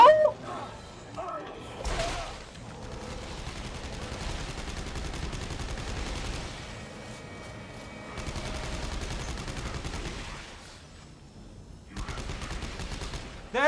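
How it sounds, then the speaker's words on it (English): Rapid SMG bursts crackle in the sci-fi horror shooter Dead Space 3, repeated loud volleys separated by short pauses, mixed with impacts and game effects over a span of several seconds. "The SMG is doing good damage."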